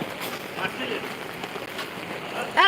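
Steady rain falls on a flooded street in Dhaka's Bagichartek area, a continuous hiss with voices talking over it.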